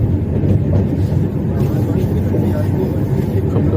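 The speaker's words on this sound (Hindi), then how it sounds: "स्पीड पे चलती है हमारी ट्रेन," Inside a 2AC coach of the Bihar Sampark Kranti express running near 100 km/h, a loud, steady low rumble and rattle of wheels and carriage fill the space, with a voice talking over the constant roar.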